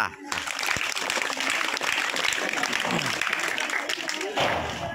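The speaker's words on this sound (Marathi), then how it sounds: "टाळ्या" Applause from a crowd at a school Women's Day celebration: a dense, steady wash of clapping that runs the full length, fairly close and loud, with a brief swell near the end.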